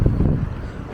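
Wind rushes and buffets against the microphone while someone walks across a street, a loud low rumble that eases off over under a second.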